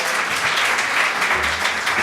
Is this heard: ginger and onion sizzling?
no